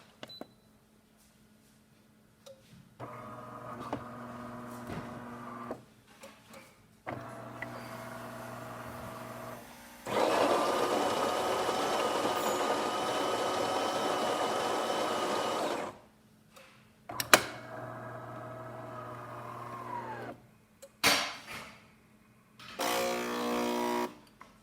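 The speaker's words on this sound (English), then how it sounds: "we have a nice strong flow of espresso coming out." A serviced DeLonghi Gran Dama espresso machine with a new pump pulls a test shot, its pump buzzing in several bursts with clicks and short pauses between, including one longer, louder stretch of steady humming.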